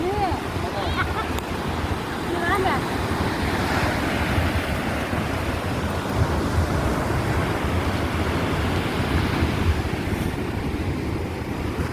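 Ocean waves break on a shore where a fisherman wades out on foot with a net and a rope tied at his waist. A loud, continuous surf roar with wind rumble runs throughout, with no clear speech.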